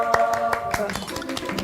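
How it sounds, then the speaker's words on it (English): A small group of people clap in quick, uneven bursts outdoors on a golf course, the claps sharp and close over a sustained musical tone. "She brought a clap squad just in case one finally landed."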